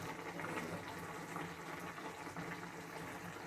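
A liquid of tamarind and chili is poured into a cooking pot, a faint continuous watery splash and trickle heard up close without voices.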